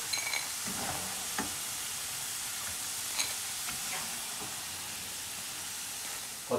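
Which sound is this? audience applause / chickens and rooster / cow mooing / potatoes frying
potatoes frying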